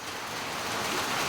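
Heavy rain pours steadily onto surfaces during a storm with gusting wind at a cancelled outdoor match, a dense, even hiss that stays close and constant throughout.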